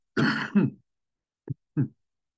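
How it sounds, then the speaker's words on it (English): A brief throat clearing or cough, then two short, quiet coughing bursts after a pause, close to the listener with no talking. "I had a cough and I stopped recording."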